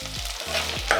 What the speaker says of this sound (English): onions start turning brown, you add the potatoes, then you stir.